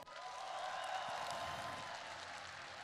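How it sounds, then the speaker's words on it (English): Steady applause from a large esports crowd of about 5,000 at Epicenter 2016, continuous and fairly faint, heard from a distance without pauses. "Аплодисменты ему!"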